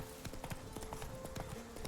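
Roach gallops in The Witcher 3, a quick rhythmic clip-clop of hooves, faint and close, over a low steady hum.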